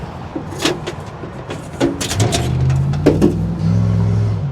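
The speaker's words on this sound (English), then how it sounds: "Gotta love traffic noise." Road traffic passes outside a work site, with cars rolling by and accelerating at moderate distance, plus scattered clicks and knocks from nearby handling.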